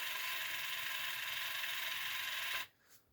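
Two small N20 gear motors whine and buzz steadily inside an RC Ford TW35 model tractor, then cut off abruptly near the end, leaving near silence with a faint brief whir.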